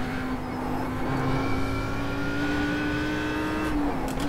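A car lapping the Nordschleife holds a steady, droning engine note through a corner, the pitch creeping slightly upward as it accelerates, loud and continuous with no talk.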